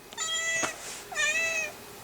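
An indoor house cat gives two clear, high meows in a row, close and fairly loud, over a quiet room with no one talking.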